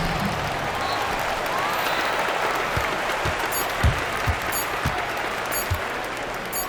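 The home crowd in the NBA 2K25 basketball game between the Hawks and Warriors sends up a steady wash of cheering and applause while a commentator speaks over it and sneakers thump now and then.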